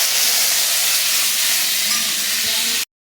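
Ginger and cumin paste with asafoetida, dried chilli, panch phoron and bay leaf sizzling in hot oil in a pan for Bengali biyebari-style sukto, a loud steady hiss that runs unbroken for about three seconds, then stops abruptly.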